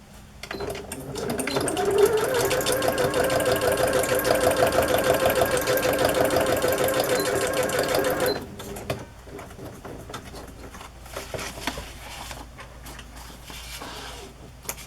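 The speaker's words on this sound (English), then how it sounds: "I'm just going to sew straight across the top," A sewing machine stitches a straight line across the top of journal paper layered with three Queen Elizabeth postage stamps. It runs loud and steady for about eight seconds, then stops, leaving quieter handling noises.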